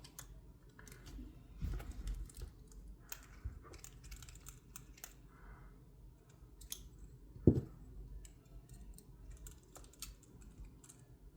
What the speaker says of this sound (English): So now we're going to take this bolt out and this bolt out.